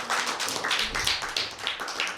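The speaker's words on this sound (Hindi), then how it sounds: "भरपूर तालियां बजाएंगे" A small group claps for a child at a Christmas gathering, with brisk, uneven claps close by lasting about two seconds.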